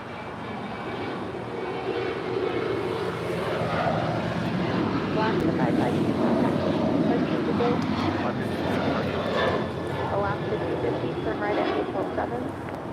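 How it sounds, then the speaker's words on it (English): A 16-year-old Alaska Airlines Boeing 737-800 departs LAX with a broad, steady jet roar. People talk nearby over the engine noise. "This is Alaska Airlines 552 departing to Tampa, Florida on a 16-year-old 737-800."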